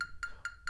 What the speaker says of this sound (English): I just have my metronome at 90 beats per minute.